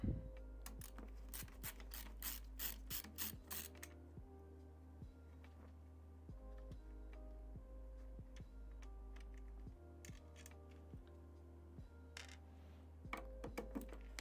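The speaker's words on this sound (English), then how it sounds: "now we gotta pull all these bolts out" A ratchet working bolts loose during a PC build, bursts of quick clicking pawl ticks close by, separated by quieter stretches and light metallic handling, with no talking.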